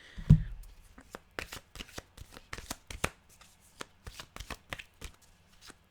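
A deck of oracle cards being shuffled by hand before an animal card is drawn: a soft thump, then a run of quick papery riffles and flicks in irregular bursts, close and fairly quiet.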